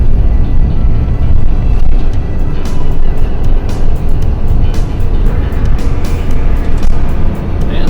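A Roadtrek Chase 50 camper van on a Ram ProMaster chassis cruising a highway near Sedona, a loud steady road roar and engine drone filling the cabin, with small rattles and bumps throughout and no voices.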